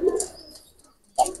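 A male and female pair of pigeons are let go, giving a short coo and a rustling flutter, then a quiet gap and a second sharp burst of sound close by.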